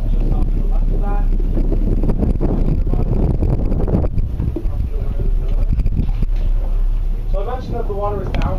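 Boat motors near a 1907 shipwreck site at Tobermory, with a steady broadband drone and heavy wind buffeting on the microphone throughout, and a voice speaking over it.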